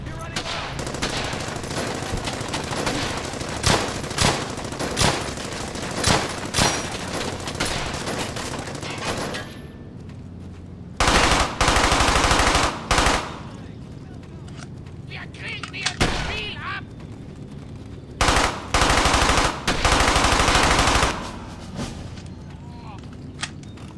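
Dense, sustained gunfire and machine-gun bursts in battle, loud and continuous with repeated heavy blasts and rattling volleys, shouted voices mixed in.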